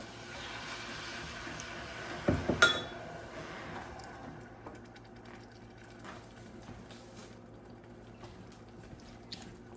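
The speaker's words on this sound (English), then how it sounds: "Then you're going to add in 1/4 of a cup of water." Water poured into a pan of flour for an apple pie glaze, a brief splashing pour with a clink, then quiet kitchen background.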